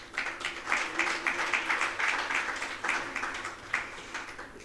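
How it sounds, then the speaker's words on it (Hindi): An audience claps steadily through a Jain religious discourse in a hall in Jhotwara, a continuous rippling applause of many hands with pulsing swells, fairly loud and without speech. "तालियां बजाने से कुछ नहीं होगा।"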